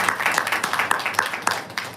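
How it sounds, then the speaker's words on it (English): A round of applause for a participant at a faculty development session, steady dense clapping from a group filling the whole stretch at moderate loudness. "So give a big round of applause to Harsha."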